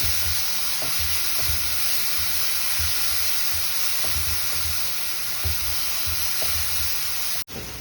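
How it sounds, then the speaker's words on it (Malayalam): Crushed onion, garlic, chili, curry leaves and mustard seeds sautéing in a pan, a loud continuous sizzle with soft periodic stirring scrapes, abruptly cut near the end. "ഉള്ളിയും വെളുത്തുള്ളിയും ഒക്കെ ചതച്ചതും കറിവേപ്പിലയും കടുകും ഒക്കെ ഇട്ട് നല്ലോണം വഴങ്ങി വേണം"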